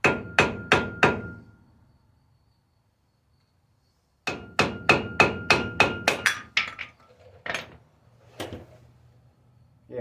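A hammer pounds on El Camino brake parts in two bursts, four quick ringing blows, a pause, then a longer run of about eight rapid strikes, followed by a few lighter knocks and clatter.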